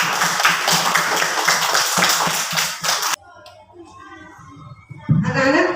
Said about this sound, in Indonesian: Tepuk tangan untuk Mbak Wilda.